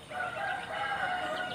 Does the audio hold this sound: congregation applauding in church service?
no